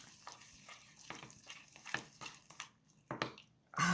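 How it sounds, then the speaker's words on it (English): Almonds are stirred into Amaretto icing in a bowl, making soft, close, wet scraping and squishing sounds in uneven strokes, fairly quiet and with no talk. "Mix it together."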